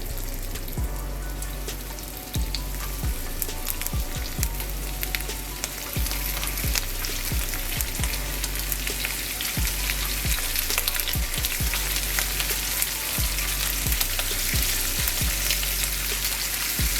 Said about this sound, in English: I'm gonna take those steaks from earlier. We're gonna drop them in the pan.